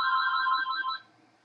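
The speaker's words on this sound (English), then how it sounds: "now the phone rings" A telephone rings in bursts of an electronic bell tone for about a second, then stops, leaving near silence; the ringing is clear and fairly loud with no talk over it.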